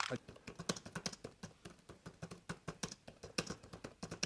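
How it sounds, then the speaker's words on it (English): Rapid, steady typing on a computer keyboard, close up, with a continuous patter of key clicks and occasional heavier strokes. "typing away, creating his visual effects"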